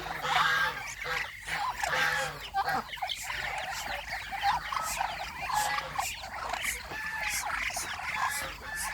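Mixed flock of ducks and chickens at dusk on a duck farm, with a continuous chorus of quacking, clucking and gobbling calls, near and moderately loud, overlapping with no clear pauses.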